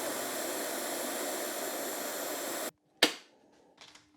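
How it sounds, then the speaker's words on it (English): A workshop air blower hisses steadily and loudly at close range while it cleans dust filters, then cuts off abruptly, followed by a sharp knock and a brief faint spurt of air. "I use the air blower again to clean the filters."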